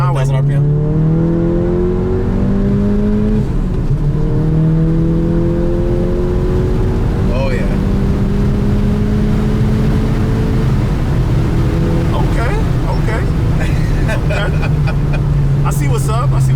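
Modified Volkswagen Golf GTI with a 2-liter engine on its stock turbo, pulling onto a highway, engine tone climbing through the gears, loud from inside the car while people talk over it.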